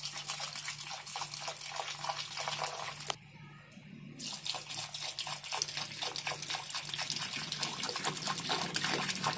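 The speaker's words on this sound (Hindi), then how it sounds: "तो आइए फिर पानी दे देते हैं अपनी बोतल से दूसरे पौधे को।" Water pours from a bottle onto a potted plant in a steady trickling stream that stops briefly partway through, then resumes and continues to the end.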